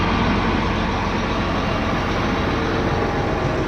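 A farm vehicle tows a land roller along the way to the barn, its heavy engine droning steadily and loudly with a constant low rumble throughout and no talking.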